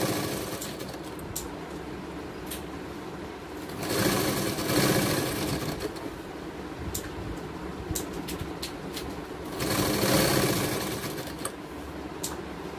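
A sewing machine stitching a baby gown runs in a steady rapid whir for the whole stretch, rising into two louder fast bursts, with no talking.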